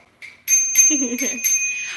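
A bicycle bell on a new dirt jump bike rings with clear metallic dings repeated several times, close and bright, with low murmuring underneath.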